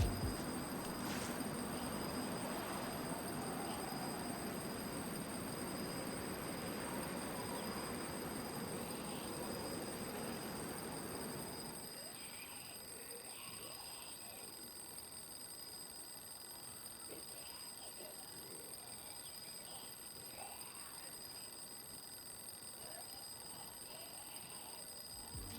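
Electronic alarm clock ringing in the DayZ survival game, a steady bright ringing that stays loud for about twelve seconds and then drops to a fainter continuing tone, with no talking.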